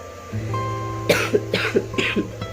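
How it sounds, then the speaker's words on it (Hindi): Several harsh coughs in a rapid, uneven series from someone close by, each a short raspy burst over a steady low background hum. "मुझे खांसी आ रही है, बट खांसा नहीं जा रहा"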